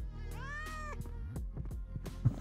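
A cat meows in the video game Thief Simulator 2, one clear drawn-out meow up front followed by shorter, fainter mewing sounds, close and fairly loud, with no talk.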